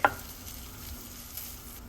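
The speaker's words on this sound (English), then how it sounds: "sauté shallot and garlic together about 5 minutes until you can smell the garlic" Shallot and minced garlic sautéing in a pan, a soft steady sizzle with a sharp utensil tap at the start and another light scrape near the end, quiet and close with no talking.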